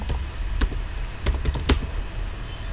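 Computer keyboard clattering as Go code is typed, a handful of crisp, uneven key clicks in short bursts, close and clear against a quiet room.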